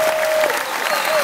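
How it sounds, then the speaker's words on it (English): A brief, loud burst of audience applause for the organizers of a gathering: thick, continuous clapping from many people, with a thin whistle-like tone running through it. "Give them a big round of applause"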